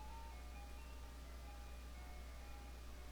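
An ice cream truck jingle plays faintly through cheap, tinny speakers, a thin looping melody under a steady low hum with no voices.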